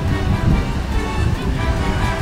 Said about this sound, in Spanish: Espera que pase la moto